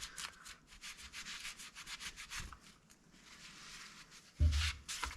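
A Crf150R motorcycle engine on a bench is scrubbed clean of built-on grime, with quiet, close brushing strokes in an irregular rhythm and a louder scuffing burst near the end.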